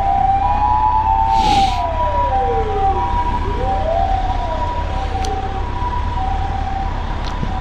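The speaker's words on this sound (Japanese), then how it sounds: "救急車が来てるので、" An ambulance siren wails loud and close, its pitch sweeping up and down in long slow cycles over road and engine rumble heard from inside a stopped car.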